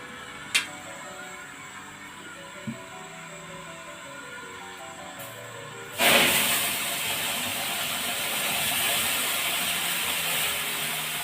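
Milk is poured into semolina (rava) roasted in ghee for rava palkova. After a quiet stretch with a few faint clicks, a sudden loud, steady sizzling hiss starts and keeps going without any talk.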